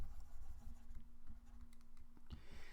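Rapid rubbing strokes of an eraser wiping off writing make a dense, scratchy patter that runs steadily throughout at close range.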